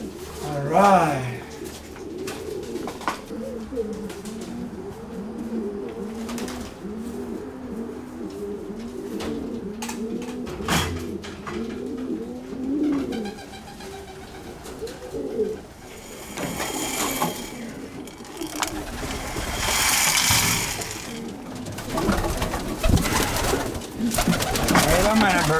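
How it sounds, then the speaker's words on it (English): Pigeons in a loft coo in repeated rolling phrases, close and clear, followed by fluttering and clattering loft noises, with a person talking intermittently. "Wait a minute, birds."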